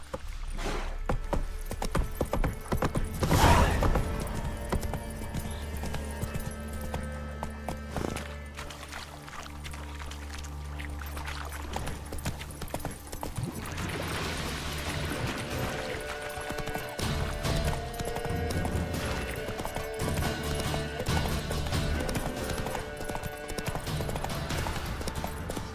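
In The Witcher 3 video game, a horse gallops with steady, rapid hoofbeats that run through the whole stretch, close and clear amid game ambience and music, no speech.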